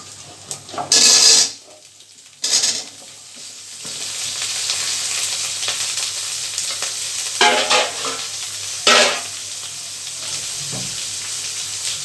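Raw seed banana and mixed vegetables tipped into a pan with lightly fried ginger for a vegetarian Bengali curry, giving loud bursts of sizzling as they land, then a steady frying hiss with intermittent scraping stirs; no one speaks.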